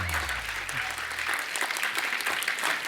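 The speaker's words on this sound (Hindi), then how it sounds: "सो जोरदार तालियां।" Studio audience applause on a Hindi comedy talk show set, steady dense clapping at moderate volume, with a low hum or music note fading out at the start.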